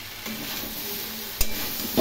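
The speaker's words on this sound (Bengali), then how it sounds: "একটু ভাজা ভাজা করে নেব মশলা এবং সবজিগুলো" Spices and mixed vegetables with grated ginger fry in a pan, a steady sizzle punctuated by a couple of sharp utensil knocks against the pan.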